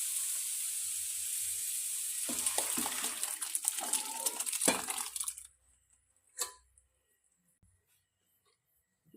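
Oil sizzles and hisses in a pan while ingredients are sautéed for drumstick leaf and lentil sambar, a steady fry that breaks into crackles and spatters, then cuts out abruptly to near silence with one brief late burst.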